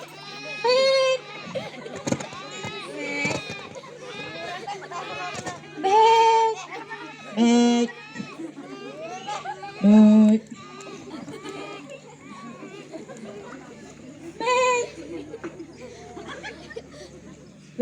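Sheep and goats bleat repeatedly in a flock, several loud, wavering calls standing out over a continuous murmur of animal noise and background voices.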